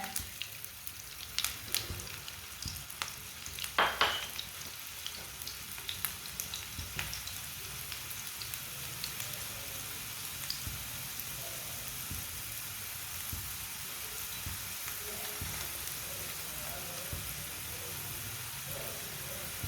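Aloo paratha fries in oil on a pan with a soft, continuous sizzle and scattered small pops and crackles, fairly quiet and without speech.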